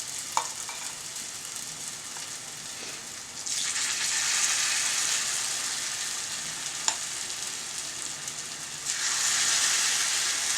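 Big, chunky codfish fritters fry in hot oil in a pan with a steady, loud sizzle that swells in two stages as more batter goes in, with a few faint clinks.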